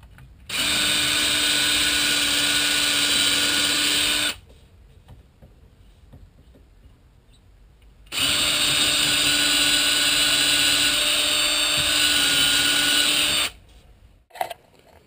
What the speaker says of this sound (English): I'm just going to drill some holes. These are pilot holes for screws that will go in